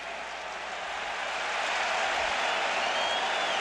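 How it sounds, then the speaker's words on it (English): A college football stadium crowd roars in a sustained ovation, a dense, steady wall of cheering and applause that swells slightly and holds without a break. "Hear the ovation from the crowd."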